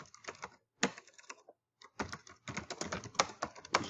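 Close keystrokes on a computer keyboard come in quick uneven bursts as a title is typed, broken by brief pauses, with no voices.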